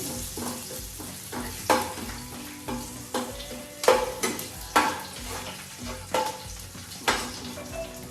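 Curry leaves sizzling in hot oil in a frying pan for a village-style chicken curry, with steady frying hiss and repeated scraping stirs of a spoon against the pan, no talking.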